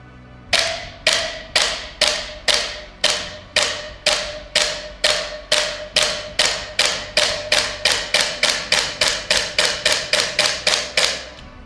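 A gas blowback airsoft MCX rifle fires a long string of about thirty sharp, loud, close shots, each with a quick ringing decay, the pace gradually quickening toward the end, with no talking.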